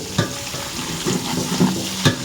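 Steady sizzling of onions frying in a hot pan for sambar, with a few soft stirring scrapes, close and continuous.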